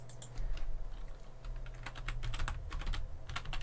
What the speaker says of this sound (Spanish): Voy a escribir TeamViewer ahí